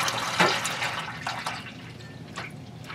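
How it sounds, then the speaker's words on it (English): Transmission fluid from a 2009 Volkswagen Touareg pours from the removed pan into a drain pan, a close, steady splashing trickle with a few sharper drips, heard alone. "There's going to be some oil coming at you a little bit"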